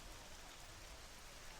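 Steady rain falls over a golf course in the Tiger Woods 14 video game, a dense, even hiss of drops with no talk and no other sounds.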